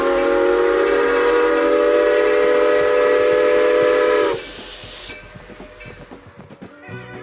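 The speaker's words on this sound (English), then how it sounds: "we have a steam engine today" A steam locomotive on the Grand Canyon Railway blows a loud, sustained whistle over hissing steam, then cuts off, leaving the rhythmic chuffing and rattle of the engine moving along.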